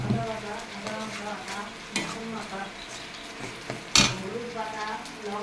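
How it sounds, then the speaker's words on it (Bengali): Spices sizzle in a pan with fried tomato, ginger paste, green chilies and garlic, a steady frying crackle broken by a few sharp clinks of a spoon stirring against the pot. "এখন আমার মশলাটা ভাজা হয়ে গেছে"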